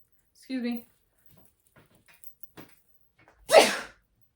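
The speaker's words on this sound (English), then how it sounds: "I feel like I'm gonna sneeze." A single loud, sharp sneeze bursts out near the end, following some quiet speech and a short vocal sound earlier.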